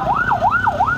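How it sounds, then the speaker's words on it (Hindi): An ambulance siren wails close and loud as it passes along a rain-flooded road in Nazimabad, its pitch sweeping up and down quickly. "और एम्बुलेंस की गाड़ियाँ जो है"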